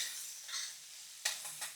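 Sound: tomato and ginger-garlic paste sautéing with onion

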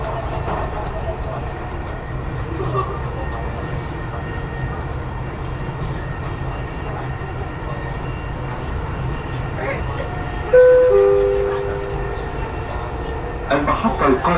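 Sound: Dubai Metro train riding between GGICO and Emirates Towers

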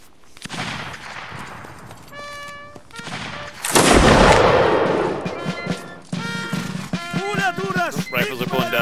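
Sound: rifle gunfire in Mount & Blade: Napoleonic Wars video game

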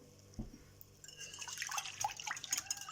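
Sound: pouring water into a mixing bowl for crepe batter

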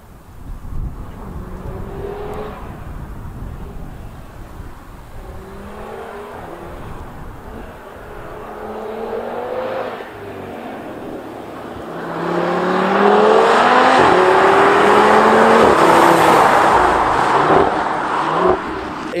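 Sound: Audi TTRS sports exhaust car driving past

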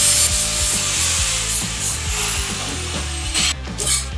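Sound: flap disc grinding sharp edges of scrap metal shovel wings

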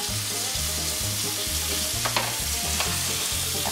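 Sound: chicken wings frying in oil

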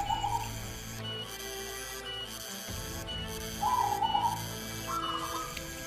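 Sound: zebra dove cooing

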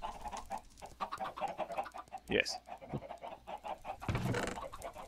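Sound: chickens clucking in Minecraft video game

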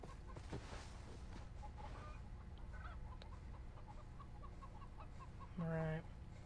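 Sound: chickens clucking in the video game Far Cry 3

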